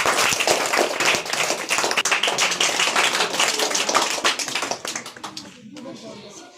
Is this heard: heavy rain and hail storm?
no